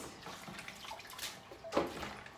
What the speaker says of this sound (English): You see what I'm doing? I rinse again.